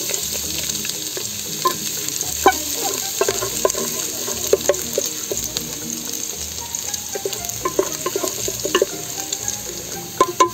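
Garlic sautés in hot cooking oil in a pan, with a steady sizzle broken by scraping and stirring clicks from a utensil, close up and without speech.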